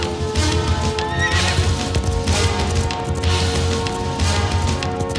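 A horse whinnies loudly and gallops with pounding hoofbeats in a forest scene from a Hindi film, with heavy dramatic rumbling underneath and no talking.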